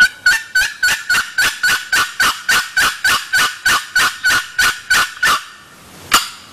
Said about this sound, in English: I like a box call because you can get their attention.